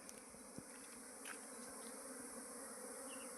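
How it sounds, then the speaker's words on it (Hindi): A honeybee swarm hums around wooden hive boxes as the bees settle into them, a dense continuous buzz with occasional louder insects passing close. "पर ये मधुमक्खियाँ बैठ गई रे दूसरे दूसरे बॉक्स में बैठ गई।"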